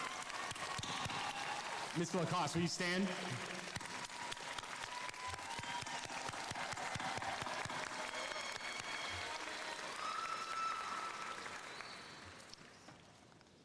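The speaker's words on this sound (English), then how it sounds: "Can we give a huge round of applause to them?" A commencement audience applauds an orchestra and its conductor, broad, sustained clapping filling most of the stretch, with a voice speaking briefly over it early on before the applause tapers off near the end.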